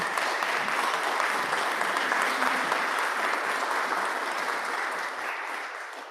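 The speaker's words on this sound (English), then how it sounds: "a round of applause for our panelists" An audience at a business dealmakers program in Dallas claps for its panelists, a dense, steady round of applause filling the room before slowly tapering off at the end.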